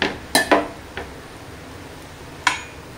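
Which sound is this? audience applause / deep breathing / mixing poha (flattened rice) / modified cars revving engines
mixing poha (flattened rice)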